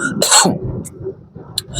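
A man coughs once harshly and close, followed by a quieter throat-clearing rasp and faint breathy sounds, with no talk.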